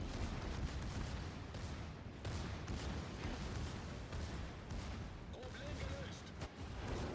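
Heavy naval gunfire from a battleship firing high-explosive shells in World of Warships, a dense rumbling barrage of booms rolling continuously under a voice talking over the action.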